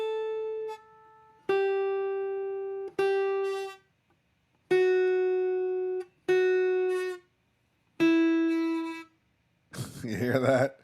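Fingerpicked string notes, each plucked and then cut off early by lifting the fretting finger, played alone one at a time in a series of short, muted phrases with silent gaps, then a brief burst of strumming.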